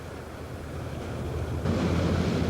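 Waves wash onto a beach with a broad, rushing surf noise that builds and grows louder partway through, mixed with some wind buffeting.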